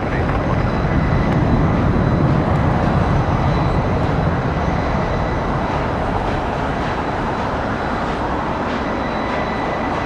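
A Boeing 747 jet departing for Brussels gives a loud, continuous broadband roar, a dense engine rumble that stays steady and heavy throughout and eases slightly toward the end.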